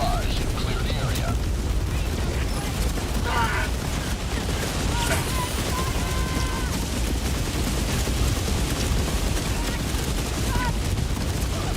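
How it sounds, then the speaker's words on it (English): Orbital barrage strike in the video game Helldivers 2, a dense, continuous roar of repeated heavy explosions and gunfire, loud and unrelenting throughout, with voices shouting over the din. "Firing orbital barrage."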